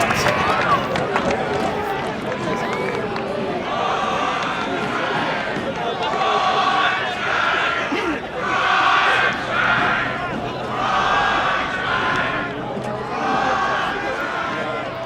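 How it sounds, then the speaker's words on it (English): A football crowd at Phillip Island roars and cheers in loud, continuous waves, with voices shouting throughout and the noise swelling in several surges. "So I'll let you listen to the crowd for 1 second"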